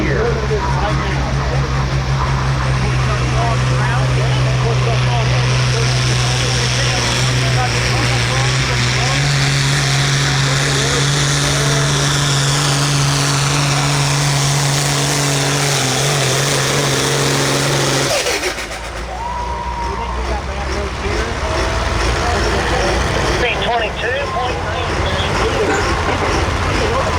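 A light pro field tractor at a 2024 pulling event in Oak Grove, Missouri, roars with a loud, steady, droning engine that cuts off abruptly about two-thirds through, with an announcer and crowd noise underneath.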